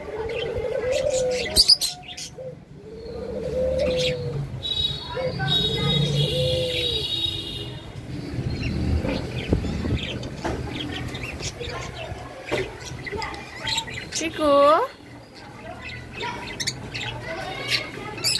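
Pet doves, including two white doves, and other cage birds feeding in the afternoon: soft repeated cooing, bright chirps and tweets near and far, with a person talking over them at times.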